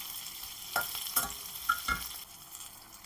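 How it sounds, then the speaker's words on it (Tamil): Onions and dried red chillies frying in a pan for Pallipalayam chicken, a faint steady sizzle broken by several sharp stirring scrapes, nearby and fading slightly toward the end. "இந்த வெங்காயமும் காஞ்ச மிளகாவும் சேர்ந்து வதங்க சொல்ல சூப்பராக வருது வாசனை"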